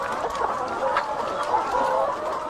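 Hens cluck continuously at an egg-laying chicken farm of more than 5,000 birds, a dense chorus of overlapping clucks and squawks close by.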